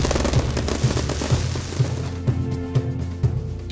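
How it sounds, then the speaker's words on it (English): Fireworks bursting in the sky above Kyivan Rus Park at an outdoor festival show, a dense roaring barrage with regular sharp pops roughly every half second, loud and continuous. "the sky above Kyiyvan Rus Park bursts with fantastic fireworks"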